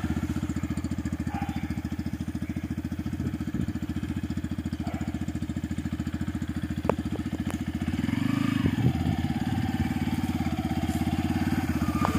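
Yamaha FZ X BS6 motorcycle engine running steadily with a dense, even drone, growing slightly louder and heavier near the end as if revved or pulling away.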